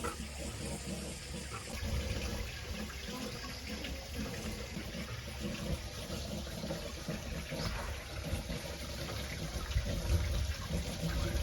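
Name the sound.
water clock and turbine running water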